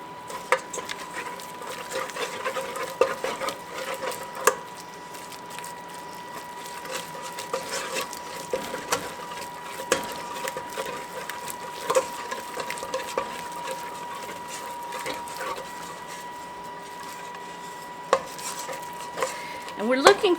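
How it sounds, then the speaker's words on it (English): Eggs being beaten one at a time into choux pastry dough for cream puffs, giving a continuous busy scraping and clattering of utensil against bowl with irregular knocks throughout, close and moderately loud. "We're going to add 1 egg at a time and beat it in thoroughly before we add the next."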